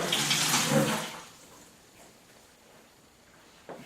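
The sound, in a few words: pouring cooled priming solution into a bottling bucket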